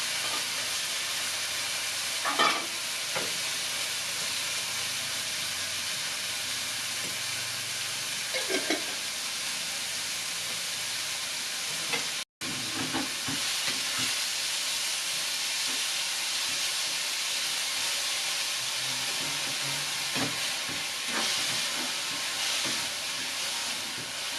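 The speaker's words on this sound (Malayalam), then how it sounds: "മഞ്ഞൾ മുളക് പൊടി എന്നിവയെല്ലാം ചേർത്ത് ഒരുമിച്ചിട്ട് കുറച്ച് വരട്ടുക" Turmeric and chili powder frying in a pan for a Kerala banana blossom curry, a steady broadband sizzle with occasional spatters and stirring clinks, continuous throughout with a brief cut near the middle.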